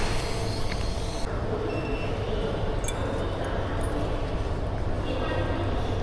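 A Line 10 metro train in Shanghai rumbles loudly and steadily, with a persistent low roar, occasional squeals and clanks, and a shift in tone as it moves, people faintly talking over it.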